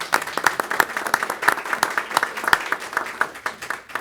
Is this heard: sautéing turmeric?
no